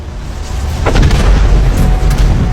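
A deep explosion boom that swells into a heavy, rumbling roar and sustains at loud volume with crackling debris over it.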